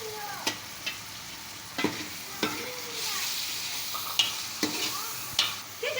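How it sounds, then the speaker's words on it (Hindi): Tomatoes and green chillies fry in a pan, a soft continuous sizzle with sharp spoon scrapes and clanks every second or so, close and alone without speech. "तो 15-20 मिनट तक ये हम इसको फ्राई करेंगे।"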